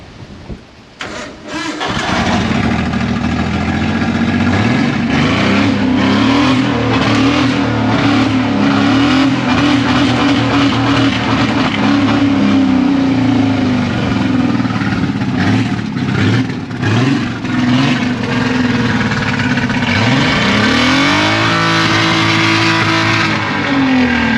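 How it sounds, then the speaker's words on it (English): A misfiring engine in an S14 drift car with a Commodore engine swap runs and revs loudly and roughly with no exhaust, its uneven idle popping and stumbling between throttle blips, with one rising rev near the end. "It sounds gnarly, but that's because it's got no exhaust."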